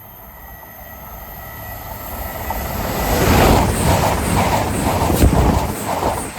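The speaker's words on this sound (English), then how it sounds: "Passing through now is a cross-country service from Edinburgh to Plymouth." A cross-country passenger train from Edinburgh to Plymouth passes Hetmill level crossing, with rumble and wheel clatter building loudly and steadily, and no talk over it.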